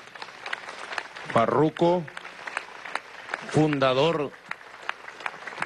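Applause from a crowd at a political rally, a steady crackle of clapping running under someone speaking through a loudspeaker.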